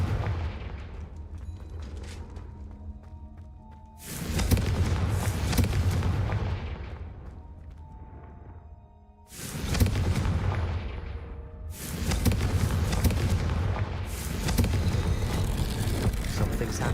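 Confringo fire spell explosions in Hogwarts Legacy, three heavy booming blasts each followed by a long rumbling decay over a low game ambience.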